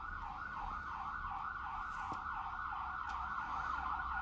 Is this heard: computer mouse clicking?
no